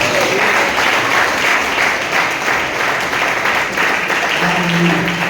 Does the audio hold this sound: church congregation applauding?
yes